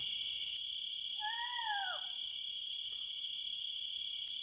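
An Indian owl gives one quavering, descending call from the trees at night in a forest. A steady, shrill chorus of crickets chirps underneath throughout.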